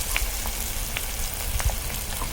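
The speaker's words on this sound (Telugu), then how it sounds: "చూడండి, ఆనియన్ ఫ్రై అవుతుంది." Chopped onion frying in oil in a pan for a ridge gourd and egg curry gives off a steady close sizzle with scattered small pops and crackles, no talking.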